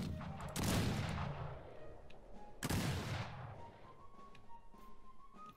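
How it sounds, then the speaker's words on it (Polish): Two loud gunshot blasts in a video game, each a sharp crack with a long booming decay, spaced about two seconds apart, followed by fainter scattered pops and tones. "Co to były za strzały?"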